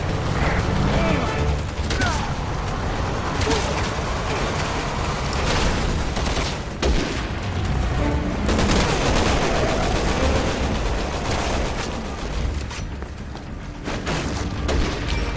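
Enemy gunfire in Resident Evil 6 during a soldier firefight: dense, steady bursts of automatic weapons and booming shots layered with mechanical clatter, loud and continuous throughout, with radio voices talking over the battle.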